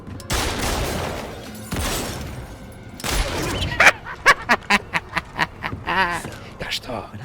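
A quick burst of gunshots rings out in a rapid string of sharp cracks, preceded and followed by loud, busy music and commotion.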